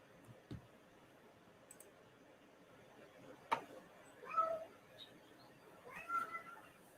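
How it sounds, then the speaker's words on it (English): A house cat meows for attention, giving a few short, fairly faint mews in a quiet room, with a couple of sharp clicks and taps around them. "Kitty cat's looking for attention."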